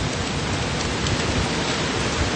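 Steady rain falls at night in Singapore, a dense, even hiss of drops with no pauses and no voices.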